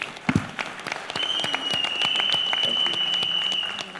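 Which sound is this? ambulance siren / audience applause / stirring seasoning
audience applause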